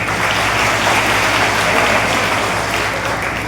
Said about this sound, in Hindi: तो इसलिए ताली बजाओ मेरे पास।